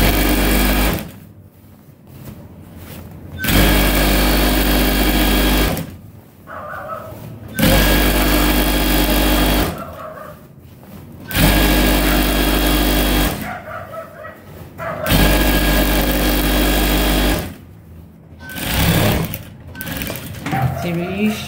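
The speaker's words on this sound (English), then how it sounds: "We are also going to go ahead and top stitch up here." A sewing machine top stitching a boxer runs in loud, close bursts of rapid mechanical whirring, stopping and restarting several times, with pauses between runs.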